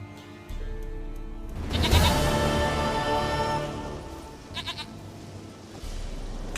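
A goat in The Witcher III gives a couple of soft bleats over a low game ambience and music bed, the main bleat rising in the middle of the clip and a shorter one following.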